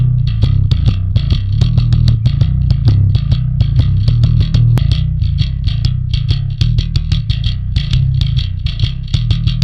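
Electric bass played through EQ for a clanky, clicky tone, with a steady run of loud, punchy low notes and sharp bright attacks on each pluck, heard alone.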